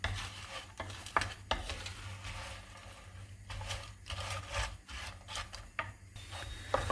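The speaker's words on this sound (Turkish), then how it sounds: "Her yerine yağ gelecek şekilde kavuruyoruz." Steady scraping and stirring in a pan close up, a rough rasping rhythm over a faint sizzle as dry noodles are tossed in hot oil.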